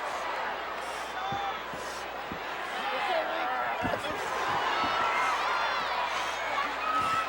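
Wrestling crowd at a World Class Championship Wrestling Von Erich memorial event responding as the Junkyard Dog fights, a steady arena roar with scattered shouts and thuds from the ring, partly under commentary.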